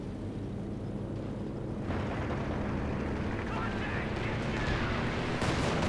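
An aircraft attack in the strategy game Company of Heroes 2, a P-47 firing from the air: a dense rumbling roar of gunfire and blasts that swells partway through, with someone commenting over the battle.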